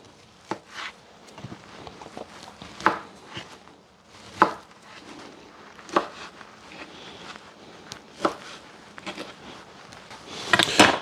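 Knife chopping peeled kielbasa sausage into cubes on a board at a camp cooking setup, a steady run of sharp close taps at an uneven pace, with no talk.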